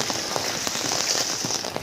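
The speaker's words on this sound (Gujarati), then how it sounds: "સોસાયટીમાં જ્યારે નદી જતી હોય એટલું પાણી ચાલે છે" Heavy rain pours across a housing society with water flowing along the ground, a dense, close, steady hiss of drops with scattered louder splashes and no voices.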